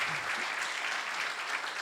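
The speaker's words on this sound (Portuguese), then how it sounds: "Ele deixou os 2 segundos para as palmas." An audience applauds at a forum on agribusiness in Lisbon, a dense, steady patter of many hands clapping at once, filling the whole moment without any voices on top.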